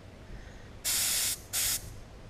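A gravity-fed spray gun sprays enamel paint on an RV in two loud, close hissing bursts, the first about half a second long and the second shorter, over a quiet background.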